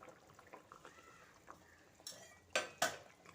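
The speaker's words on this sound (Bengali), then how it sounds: "এবার ভেজে রাখা মাছগুলো দিয়ে দিচ্ছি" Fried rohu fish pieces go into a cooking pot of simmering potato curry, landing in two loud, close, splashy clatters near the end after soft utensil scraping.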